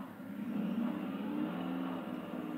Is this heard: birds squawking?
no